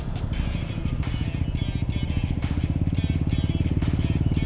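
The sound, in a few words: Suzuki Hayate motorcycle riding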